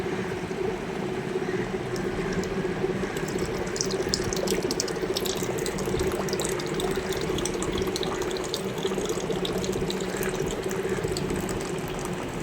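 A reverse osmosis water purifier runs while flushing, giving a steady, continuous rush of water with a faint mechanical ticking and whir underneath, unchanging throughout.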